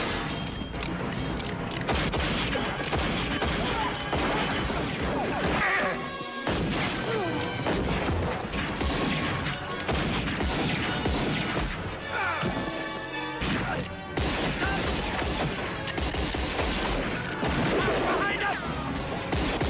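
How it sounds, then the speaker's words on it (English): Western film shootout with dense, loud gunshots and glass shattering as windows are shot out, crashes and bangs packed together with brief pauses, under a thick soundtrack mix. "Great scene there with Doc shooting in the windows."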